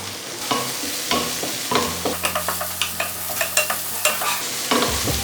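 Tomatoes sauté in a hot pan for a Kerala-style mushroom moli, sizzling steadily while a spoon scrapes and stirs in a quick series of sharp clinks, close and fairly loud.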